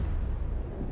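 A bomb explosion in Max Payne 3, a short, dense, deep rumbling blast heard alone, loud throughout the moment.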